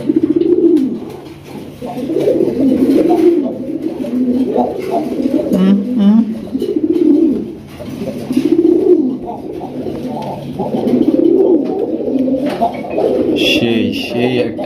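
Raj Golla pigeons coo in repeated rolling phrases, close and steady, with soft chirps and a voice talking over parts of it.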